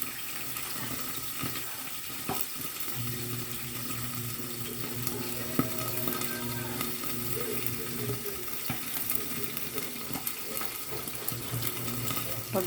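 Milkfish (bangus) frying in hot oil, with a continuous loud sizzle and scattered sharp pops of spattering across the whole stretch, no talking heard.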